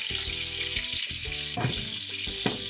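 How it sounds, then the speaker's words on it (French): Honey caramelizes in a hot pan for a duck breast sauce, giving a loud, continuous close sizzle and bubbling with occasional stirring clicks. "Donc là, on voit que notre miel est bien caramélisé."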